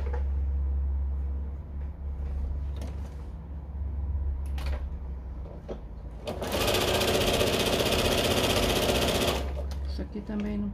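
A sewing machine stitches a fabric tube for a patchwork glasses holder, running loud and steady for about three seconds in the middle of the clip, with quieter handling and a low background hum before and after.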